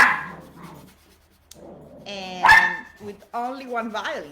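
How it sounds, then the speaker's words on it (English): A dog gives a couple of sharp barks and yips amid a person's talking indoors, the barks loud and close. "That's my dog"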